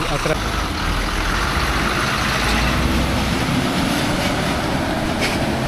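A village bus rumbles as it drives away, a loud, steady engine roar that fills the clip, with a voice briefly heard.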